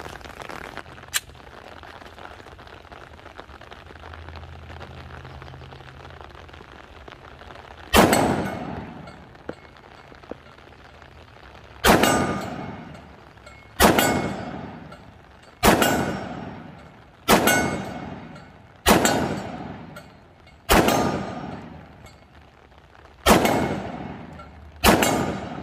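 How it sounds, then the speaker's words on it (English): An XDM Elite 10mm pistol fires 180 grain Freedom Munitions rounds in the rain: after a quiet stretch with one early crack, about nine loud, sharp shots ring out outdoors, spaced one to two seconds apart, each with a short decaying tail. "I'm just gonna pop off 11 rounds of this Freedom munition, 180 grain."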